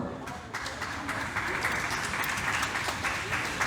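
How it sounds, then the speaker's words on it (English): Passengers at a towel-animal folding demonstration on the Radiance of the Seas cruise ship applaud a volunteer, giving a steady crowd clapping that swells after a half-second and holds for a few seconds. "a big round of applause for Henry from deck number 4"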